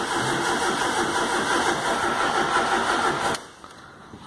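A 2005 Ford Fox engine cranks and runs steadily after the ignition key is turned, loud and close for about three seconds before it abruptly cuts to near silence.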